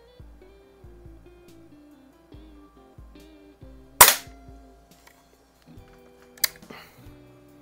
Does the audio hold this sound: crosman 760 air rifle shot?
yes